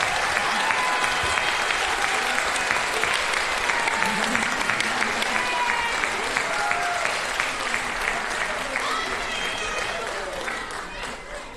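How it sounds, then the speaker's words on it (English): Loud, sustained applause from a large audience at an elementary school fourth grade promotion ceremony, dense clapping with crowd murmur and a few voices, tapering slightly toward the end. "Let's give them a big round of applause."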